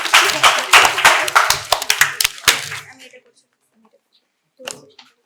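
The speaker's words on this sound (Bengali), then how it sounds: "ওর জন্য একটা জোরে হাততালি হবে।" Audience applause at a quiz competition held at a medical college in Santiniketan: a burst of close, loud clapping that fades out after about three seconds, then a short scatter of claps near the end.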